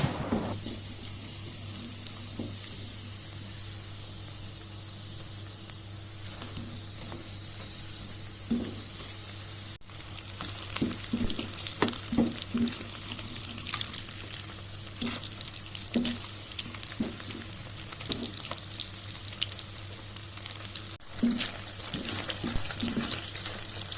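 Sausages frying in a pan give a steady, quiet sizzle with occasional soft crackles and stirring clinks throughout, no voices.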